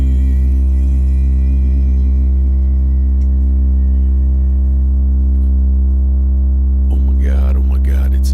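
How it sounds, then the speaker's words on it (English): A steady sine tone from a Eurorack modular synthesizer patched at 96 BPM holds unbroken and fairly loud for about seven seconds, then brighter sweeping chirp-like tones come in near the end. "here's a sine wave"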